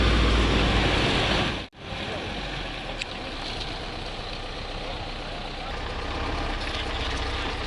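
A truck drives toward loading fish for stocking a lake, its engine giving a steady, close rumble with one brief dip, and voices are faintly present.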